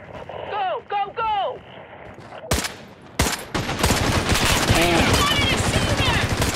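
Gunfire in the Caliber video game, with sharp loud shots cracking amid a dense stream of rapid firing over wind noise, while voices shout over the action.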